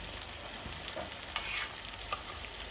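Dried fish goes into a spice paste frying in a pan, giving a quiet, steady sizzle with a few scraping stirs and clinks, and no speech.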